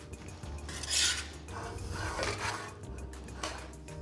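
Pasta and broccoli being stirred with grated parmesan in a pan, a spoon scraping and clinking against the metal with soft, wet tossing sounds, close and fairly quiet, continuous with a few brighter scrapes.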